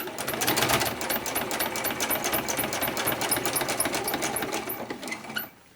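A sewing machine top stitches a fabric bin made from two fat quarters, running in a steady fast stitching rhythm for about five seconds at close range before stopping abruptly.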